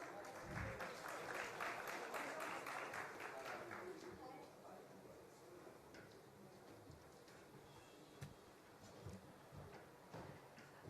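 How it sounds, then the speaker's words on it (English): An audience at a travel and tourism summit applauds panelists being welcomed, a loud burst of clapping that fades after a few seconds into quieter room sound with scattered claps and faint talk. "Please welcome them with a big round of applause."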